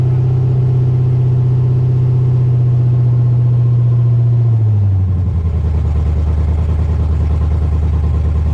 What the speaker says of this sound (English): at least now we have it running. We're able to give it some throttle.